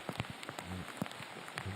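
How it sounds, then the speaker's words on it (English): Heavy rain pouring down on a golf course during a tournament round, a faint steady hiss with scattered drops pattering on a surface nearby. "in this downpour"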